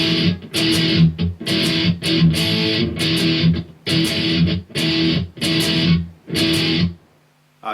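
Heavily distorted electric guitar chugs through the breakdown of a song in loud, tight palm-muted bursts, about seven chopped phrases separated by short stops, close and aggressive before cutting to near silence at the end.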